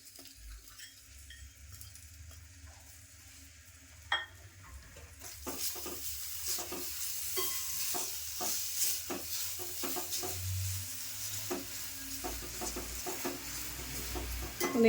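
A jaggery and grated coconut mixture is stirred in a pan, with a quiet stretch giving way after a few seconds to steady scraping and sticky stirring strokes that continue up close to the end.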